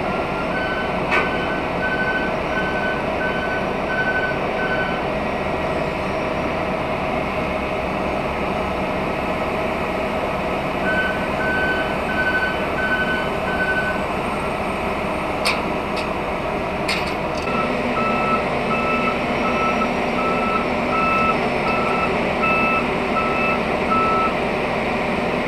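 Trucks work a busy BNSF intermodal rail yard, with repeated reversing beeps sounding in spaced bursts over a steady engine rumble, plus occasional sharp clanks and distant rail noise.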